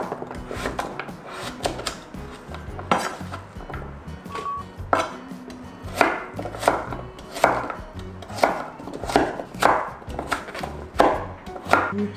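A knife finely chops radish for kimchi on a cutting board, giving a steady run of crisp, close taps with short pauses between bursts.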